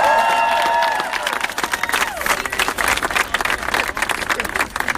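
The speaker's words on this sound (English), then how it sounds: "Round of applause." Rally attendees at a health care event with two politicians give a volunteer a round of applause; close, steady clapping with some cheering follows a brief burst of voices at the start.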